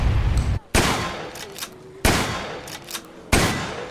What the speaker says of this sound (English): Look at the impact, the recoil on the shotgun.